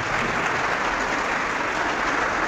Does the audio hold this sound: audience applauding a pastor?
yes